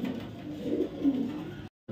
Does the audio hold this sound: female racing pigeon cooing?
yes